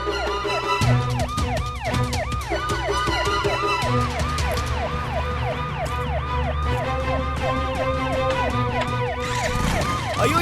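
An ambulance siren wails in a steady, repeating rising-and-falling pattern throughout, loud and continuous with a low rumble of traffic underneath.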